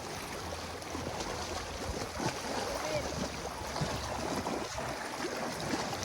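Rushing river water surges steadily around a tuber riding a strong current at Daraitan, Tanay, a dense broadband wash that stays loud and close throughout with no clear voices.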